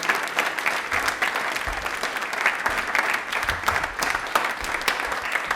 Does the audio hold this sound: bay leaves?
no